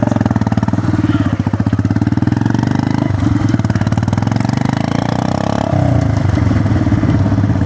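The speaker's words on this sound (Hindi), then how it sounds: "काफ़ी बढ़िया सर्विसिंग हुई है बाइक की, काफ़ी अच्छा रिस्पॉन्स दे रही है बाइक।" Motorcycle engine idling steadily and responding to light throttle after a fresh service, a close, continuous low putter with slight rises in pace and no talk.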